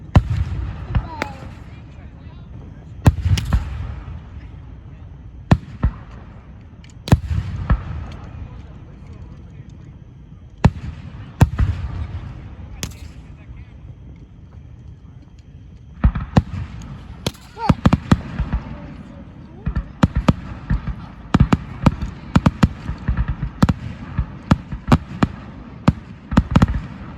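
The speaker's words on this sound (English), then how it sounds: "Big fireworks show." A big fireworks show: sharp bangs and crackling bursts at irregular intervals, some loud and some more distant, growing denser toward the end, with occasional voices in the background.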